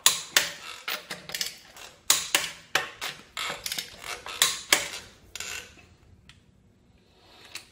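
A torque wrench ratchets close up on lug nuts on aluminum rims of a 2008-2010 Grand Caravan, a series of sharp clicking strokes in quick succession that thin out to faint taps.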